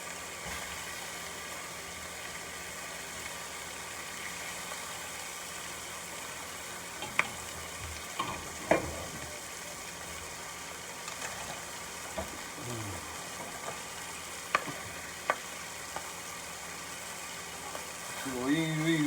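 Chicken thighs for smothered barbecue chicken sizzle steadily in a pan, a constant quiet frying hiss with a few faint clicks and taps from turning the pieces.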